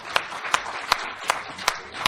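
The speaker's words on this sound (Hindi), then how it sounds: "जोरदार तालियां बजाइए" An audience claps in evenly spaced, sharp bursts, about six distinct claps in two seconds, fairly close and moderate in level over a low background murmur.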